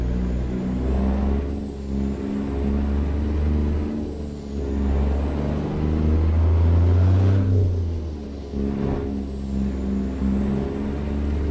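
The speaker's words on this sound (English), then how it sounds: "So I can turn the engine down in the truck if you want." A semi truck's diesel engine idles steadily and close, a constant low rumble with slight swells in intensity, running alone with no talk over it.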